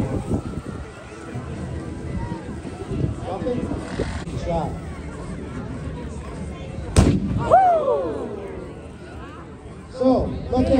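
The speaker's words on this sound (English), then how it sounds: "we're gonna go ahead and display some of the airbag, how they can deploy" Airbag deploying inside a Ford Mustang GT with 546 horsepower: one sharp, loud bang bursts out partway through, followed by a brief rattling decay, with voices and background noise throughout.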